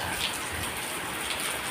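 Steady, heavy rain pours down in a constant hiss of drops hitting surfaces, with no pauses.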